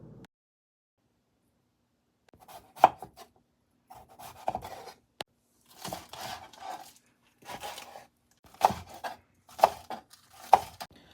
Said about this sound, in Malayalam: ഒണിയൻ ആൻഡ് പൊട്ടറ്റോ ക്ലീൻ ചെയ്ത് നുറുക്കണം